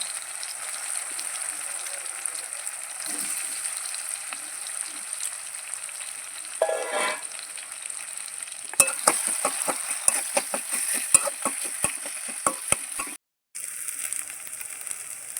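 Tomatoes and green chili frying in a pan with boiled potatoes as the mix softens, a steady close sizzle under intermittent spoon scrapes and clinks against the pan, growing into a rapid run of stirring knocks before a brief cut.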